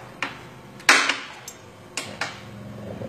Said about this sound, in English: We're going to take a punch, a spring-loaded punch, and just punch right in the middle of it.